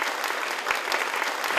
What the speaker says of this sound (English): please, applause for all the members